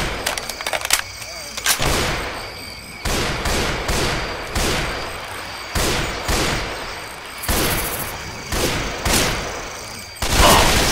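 Repeated bursts of loud gunfire in Left 4 Dead 2 come in sharp volleys every second or so with short gaps between, while players talk over the shooting.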